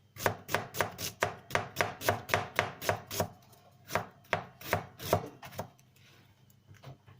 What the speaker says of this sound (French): peu importe le sens où vous le coupez, l'important c'est de faire des lamelles, de faire de petites tailles